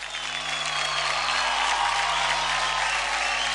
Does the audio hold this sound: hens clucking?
no